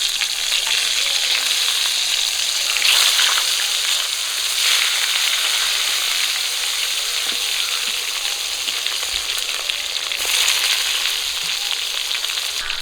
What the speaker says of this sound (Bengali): মাছ ভাজা তেলে আমি ধুয়ে রাখা বেগুনগুলো ভাজা করে নেব।